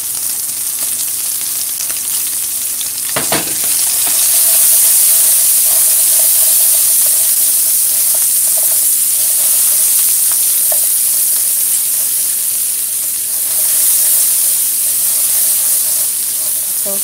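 Chopped onion hits a hot pan over a lit stove flame, giving a steady, fairly loud sizzle and hiss of frying that runs throughout with a brief clatter early on, and no talking.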